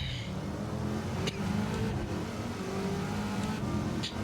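Race car engine in a racing video game, revving steadily with a constant mid-pitched drone, brief sharp shifts or bumps, and the engine pitch rising and falling slightly throughout, heard alone without talk.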